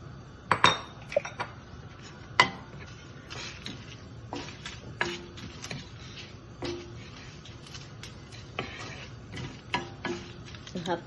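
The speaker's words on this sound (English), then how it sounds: "You have to keep stirring it because coconut gets burned quick." Grated coconut being stirred as it roasts in a pan, steady scraping with sharp metal spoon clinks against the pan and a soft dry sizzle, close and quiet.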